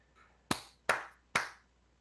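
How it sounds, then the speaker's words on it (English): Three sharp hand claps ring out in quick succession, close and loud, each with a short decaying tail, followed by quiet. "I'm clapping and then I'm talking."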